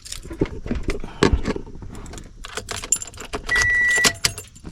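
Car keys jangle and clack in the ignition of a 2nd-gen Toyota Tundra as the key is turned on with the engine off, a series of close metallic rattles followed by a steady electronic chime near the end.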